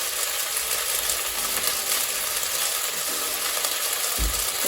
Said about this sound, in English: once we've had the sesame oil, they'll start sort of like frying again, and they will unstick